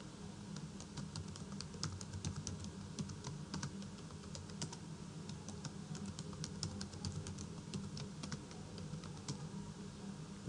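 Fingers type on a computer keyboard to change a root password on a RHEL7 machine, producing quiet, rapid clicks in uneven bursts over a low steady background hum.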